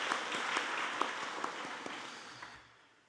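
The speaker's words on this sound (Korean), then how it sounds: "우리 하나님 앞에 영광의 박수 올려드릴까요?" A church congregation at a Wednesday worship service applauds after a choir performance, a dense spread of clapping with a few distinct near claps standing out, fading away toward the end.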